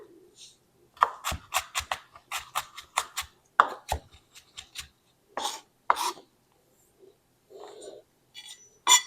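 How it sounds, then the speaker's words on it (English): A knife taps quickly and repeatedly on a cutting board, finely chopping vegetables for guacamole in irregular bursts, close up, with a few words spoken between the bursts. "Very finely chopped."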